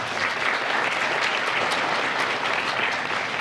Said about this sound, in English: Let's acknowledge that with a round of applause.